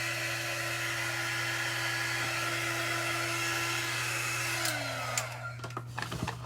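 A hair dryer blows steadily on wax, a constant close whirring drone that cuts off near the end, followed by a few faint clicks and handling knocks.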